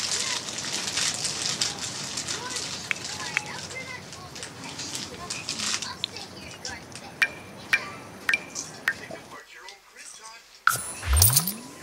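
Rain falling in a life-simulation video game, a soft continuous patter with scattered sharper drops, ending with a brief louder swoosh, all without speech.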